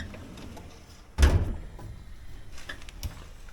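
A drawer in a tool chest holding 12-point sockets and Craftsman impacts shuts once with a sharp, fairly loud thunk, then a smaller knock follows, all in a quiet garage room with no talking.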